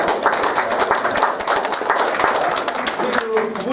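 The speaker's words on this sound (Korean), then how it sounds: "박수 주세요." A church congregation at a Sunday service claps in a brief burst of applause, dense and steady, with a voice talking over it.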